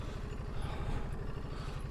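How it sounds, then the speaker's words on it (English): The engine of a Ducati Desert X motorcycle in enduro mode runs steadily and close, with a rapid, revvy pulsing throb and no talk over it. "I just think the bike sounds really revvy"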